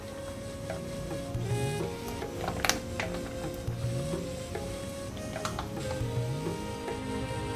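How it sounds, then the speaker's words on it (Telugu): Oil heating in a pan on a stove, a soft continuous sizzle with scattered light clicks and taps, fairly quiet and steady throughout. "ముందుగా స్టవ్ మీద ప్యాన్ పెట్టి ఆయిల్ వేసుకోవాలి."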